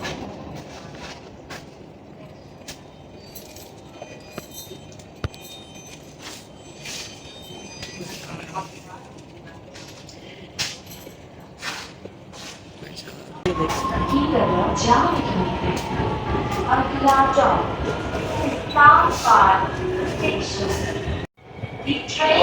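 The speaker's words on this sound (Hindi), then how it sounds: "देखिए अभी बार ऑरेंज लाइन मेट्रो ट्रेन का सफ़र।" Ride aboard an Orange Line metro train: quiet cabin rumble at first, then a louder surge of running-train noise with squealing wheels and rattles, plus a brief drop near the end.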